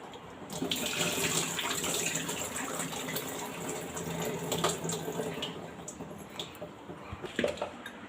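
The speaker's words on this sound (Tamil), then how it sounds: "கடலப்பருப்பு ஊற வச்சோம் இல்லைங்களா, அது ஒரு 2 வாட்டி அலசிக்கலாம்." Soaked chana dal being rinsed in water, a steady splashing, running-water wash close by with small surges and drips, no voices.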